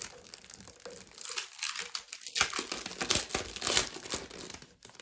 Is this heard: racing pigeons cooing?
no